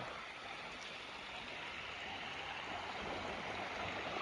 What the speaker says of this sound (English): Down here at our little river that's running very slowly.